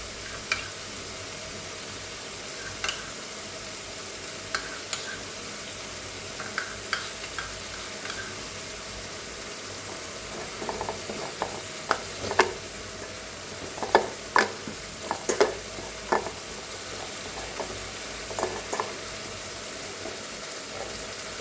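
Spices sizzle softly in a pan while a dish of doi kochu is cooked, with a steady frying hiss and scattered scrapes and taps from stirring that grow busier midway; there is no talk.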